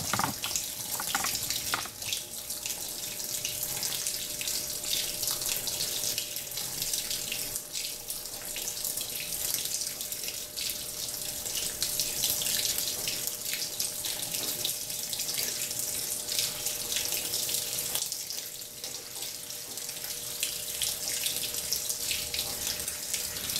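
Water pours steadily into a Speed Queen TR7 10.5 kg top-load washing machine in São Paulo, a weak cascade from low water pressure, a continuous close hiss and trickle that runs unbroken and alone, with no voices.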